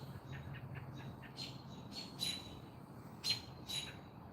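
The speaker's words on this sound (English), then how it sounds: "Can you hear the birds?" Birds chirping outdoors, several sharp, high chirps and squeaky calls in irregular bursts over a low background hum, moderately close and fairly faint, no speech.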